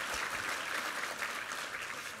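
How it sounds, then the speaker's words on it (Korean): A church congregation claps in praise during a Sunday worship service, a steady, fairly quiet wash of many hands heard at some distance, continuous for the whole moment with no voices on top. "우리 하나님께 감사와 영광의 박수 올려드리겠습니다."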